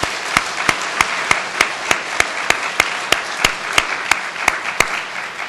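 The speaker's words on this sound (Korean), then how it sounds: "박수 올려드리겠습니다." Church congregation at a Wednesday worship service applauding, heard as steady, evenly spaced claps throughout, fairly loud and close, with no talking.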